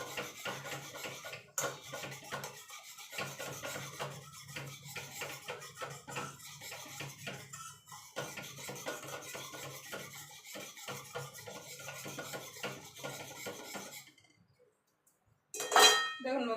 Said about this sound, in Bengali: এবার দুধটাকে ভালো করে মিশিয়ে নেব।